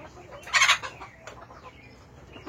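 Chickens, a rooster among his hens, give one short, loud squawking call early on, followed by quiet, low clucks and soft rustling from the flock.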